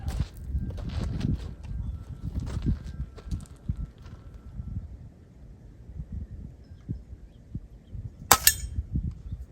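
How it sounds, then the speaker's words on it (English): A Beeman 2027 air pistol fires once with a single sharp, loud crack near the end, preceded by soft handling clicks and shuffling close by. "let's see how fast it shoots"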